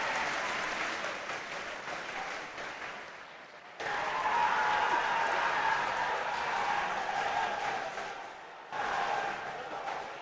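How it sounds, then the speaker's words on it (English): Italian spectators cheering and applauding at a Rubik's cube European championship, a sustained crowd roar with clapping that swells after a pause, speech faintly mixed in. "I think that's a cheer from the Italians as Valerio Locatelli locks in a podium finish"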